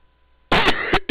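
A few sharp coughs right into a nearby microphone, loud bursts after a near-silent start.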